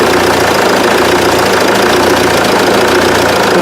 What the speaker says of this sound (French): Donc on laisse tourner le véhicule au ralenti pour le test.